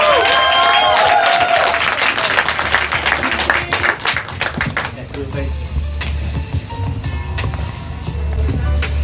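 An audience at a book tour event in Dallas breaks into applause, a dense, loud wash of clapping and crowd noise that fades as it goes, with voices speaking over it.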